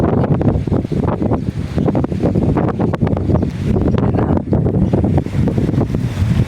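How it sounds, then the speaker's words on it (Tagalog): Strong wind buffets continuously across the whole stretch, a loud, broadband roar with gusty surges and no voices. "Lakas ng hangin"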